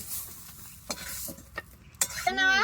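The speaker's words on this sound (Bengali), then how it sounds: "শস্য পাতাটা হালকা ভেজে নেব।" Mustard leaves fry lightly in a pan with a soft sizzle. A utensil scrapes and clinks against the pan a few times, and a high tonal squeal comes in near the end.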